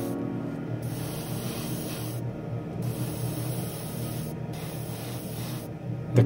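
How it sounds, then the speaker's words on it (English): A clean airbrush spraying paint at about 20 psi onto a Hoonicorn Ford Mustang scale model gives a steady close hiss, interrupted by brief pauses as the trigger is released and pressed again. "I used to print with 30 psi, but 20 psi with clean airbrush pistols, it's much better"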